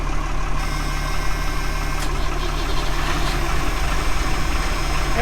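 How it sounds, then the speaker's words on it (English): A Ford marine engine idling in a trawler engine room, a loud, steady low rumble with a constant mechanical drone and faint rattling, running alone with no voices. "Okay, engine's running."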